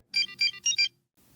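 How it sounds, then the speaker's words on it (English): The Kim Possible ringtone chirps in four quick, bright electronic beeps, close and clear, followed by a brief low murmur. "Is that the Kim Possible ringtone?"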